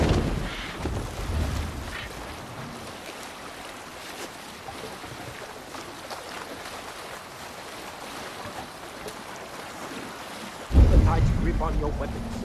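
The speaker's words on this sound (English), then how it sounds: "Raise the mast!" A sailing ship moves across the sea in Assassin's Creed Valhalla, with soft wind and water washing against the hull. A voice calls out near the start, and a louder splash or gust comes near the end.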